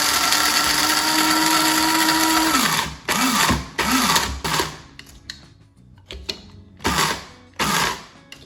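An electric grinder grinds coffee beans coarse for cold brew. A loud, steady whirring drone runs for about three seconds and then drops away, followed by repeated short bursts of grinding and rattling beans between pauses.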